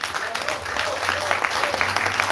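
An audience at a KingdomFilm film festival livestream claps steadily in a dense, continuous patter, with a voice talking over the applause.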